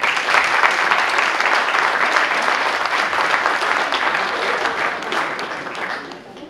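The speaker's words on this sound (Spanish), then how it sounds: "Un aplauso para ambos" Sustained audience applause fills a wine awards ceremony hall, a dense steady wash of many hands clapping at close range that holds for several seconds before tapering off slightly at the end.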